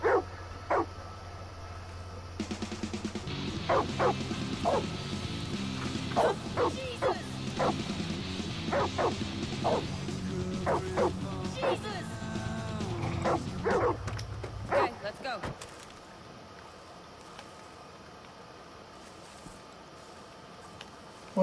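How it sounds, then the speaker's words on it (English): A dog in the video game Far Cry 5 gives a series of sharp, repeated barks over a steady low hum of game ambience, followed by a crash and then quieter background sound. "Oh, that's a dog."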